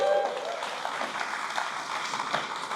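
Audience at a Filipino American heritage event in Albany applauds steadily at moderate distance, a soft continuous patter of clapping.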